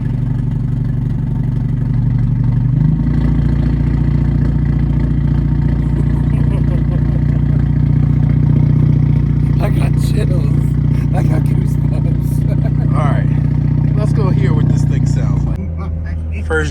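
A 2024 Hyundai Elantra N with a Borla ATAK exhaust idles with a deep, steady drone and faint turbo whistle, close and loud throughout, while people talk over it before the engine note drops near the end.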